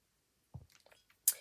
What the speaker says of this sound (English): Just have a sip of my water.